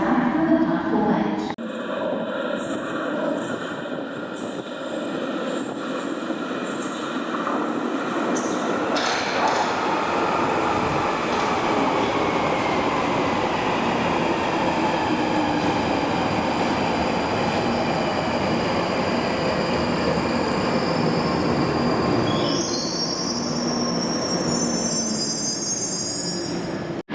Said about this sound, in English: the train now approaching is to Highgate